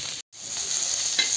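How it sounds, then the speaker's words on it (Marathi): Green chillies roasting in a pan for an amti, a steady bright sizzle broken by a brief pause, close and fairly loud with no talking. "आता मिरच्या छान भाजून झालेल्या आहेत।"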